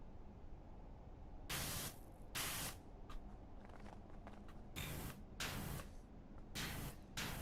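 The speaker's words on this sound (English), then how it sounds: "The spray sound's only coming through my left ear." Pressure washer spray in Powerwash Simulator 2 bursts on and off in hissy blasts of varying length, fairly close, over a low ambient hum.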